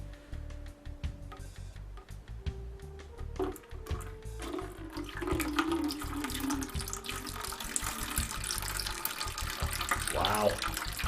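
Water pours steadily into a model boat hull with a splashing, hissing rush that swells after a few seconds and stays close, with faint clicks and handling sounds under it.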